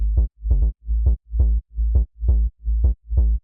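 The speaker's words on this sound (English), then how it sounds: "let's move on to the thick sub that we got going on" A thick sub bass synth for a bass house track pulses in eight evenly spaced, punchy notes with deep low-end weight and brief gaps between them, loud and alone.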